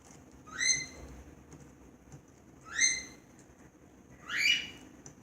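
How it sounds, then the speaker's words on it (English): A pet bird in its cage gives three separate bright whistled calls about two seconds apart, close and clear over a faint low background hum. "My bird wants out of his cage"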